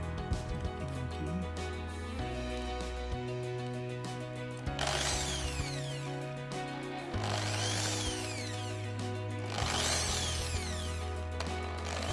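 A Maktec MT80B concrete drill by Makita runs in bursts of steady whirring, with its speed shifting between bursts. Sweeping ratchet-like rises and falls come through in several runs, close up, with no talking.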